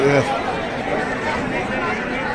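A packed bus station waiting area at the ticket windows is filled with a steady, dense crowd chatter close by, with many overlapping voices and a speaker talking over the babble.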